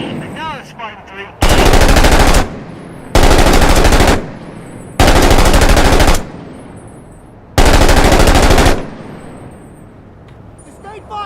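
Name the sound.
sustained machine gun fire, video game Six Days in Fallujah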